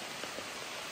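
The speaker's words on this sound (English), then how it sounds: "so it's starting to pour." Steady dense hiss of heavy rain pouring down outdoors in Oregon, close and continuous, with no voices.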